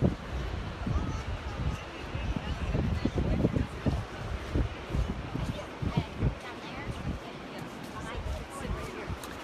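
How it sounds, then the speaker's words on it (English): Gusty wind buffets the microphone with low rumbling bursts at Scusset Beach on Cape Cod, while a voice talks faintly underneath. "It's a very windy day"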